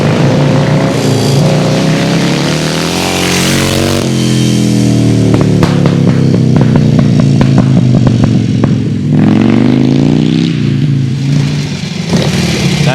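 1928 Indian Scout racing motorcycle with no brakes, engine roaring and revving loudly up close as it rides past, with rattling clatter and shifting pitch throughout.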